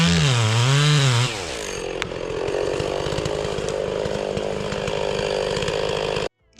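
A chainsaw cuts down trees to clear a shooting lane, opening with a revving, rising-and-falling whine before settling into a steady, loud, close buzz as the chain bites wood, then cutting off abruptly at the end.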